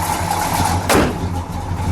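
A 1969 Pontiac GTO Judge with the Ram Air III engine idles steadily and close by, broken by one sharp burst of noise midway before the low rumble settles back in.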